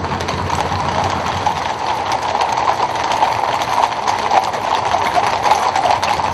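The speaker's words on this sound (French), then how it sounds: "les chevaux commencent à bouger, à se mettre debout" Horses of a mounted escort stir and shift in place, hooves clopping irregularly on hard ground under a steady background rumble.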